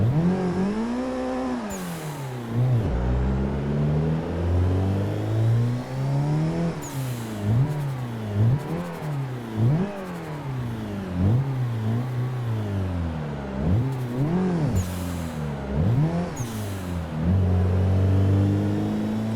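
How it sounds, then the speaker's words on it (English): Turbocharged car in the racing game Assetto Corsa revving hard through repeated gear shifts, the engine note rising and falling in sweeping cycles with sharp turbo blow-off hisses between them, loud and continuous. "Always good to make those turbo blow off noises."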